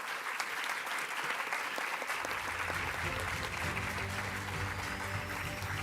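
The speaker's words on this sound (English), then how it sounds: "please give a round of applause to your parents" Scholars applaud their parents in a school auditorium during a high school awards night, sustained crowd clapping heard from a distance while soft music or hum rises beneath it.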